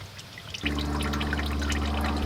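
Engine oil drains out of a Chevrolet Silverado's oil pan, a steady pouring, trickling stream that starts suddenly after a short pause and then runs on continuously at close range.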